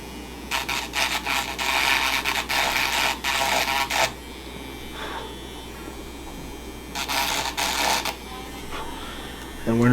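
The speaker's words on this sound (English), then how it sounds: "So we're going to use our rotary tool very lightly." A rotary tool lightly grinding around the power button of an iPad, with bursts of high buzzing grind separated by pauses and a low motor hum running beneath, close up; someone talks between passes.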